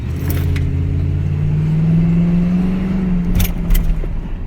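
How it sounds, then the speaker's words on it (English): Truck engine with lean codes on both banks and a fuel rail pressure code, revved hard for wheel spin: a close, loud rumble whose pitch climbs and holds, with light rattles near the end. "Let's see if we can get any wheel spin out of it or anything."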